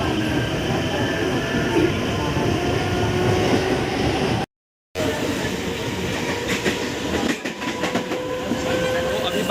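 A Mumbai local train bound for CST pulls into a busy station with a loud, continuous rumble and rail clatter. A brief dropout comes midway, and faint crowd noise sits under the din.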